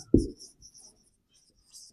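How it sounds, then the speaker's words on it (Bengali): A marker or chalk writes briefly on a board during an English grammar lesson, one sharp stroke followed by a few faint scratchy marks, close and otherwise quiet. "কিন্তু আমি যদি এখানে একটা জিনিস লিখি, মুনা ইজ ইন দা"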